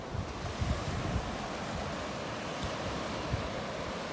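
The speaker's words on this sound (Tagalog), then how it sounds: "Ang dagat." Sea waves wash onto the shore in a continuous, fairly faint roar of surf, with wind buffeting the microphone and slight swells in the rush but no distinct single break.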